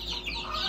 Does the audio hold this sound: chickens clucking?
yes